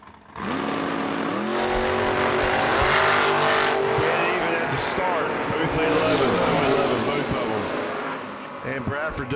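A dragster launches and roars down a drag strip at a US 13 60th anniversary race weekend, its loud engine holding a steady, sustained howl for several seconds before easing off, with an announcer talking over it throughout.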